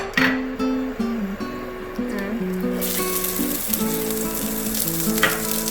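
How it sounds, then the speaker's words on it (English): Onions sauté in a little oil in a pan, giving a steady close sizzle that grows brighter partway through, with a background melody and occasional stirring. "It's time to saute our onions."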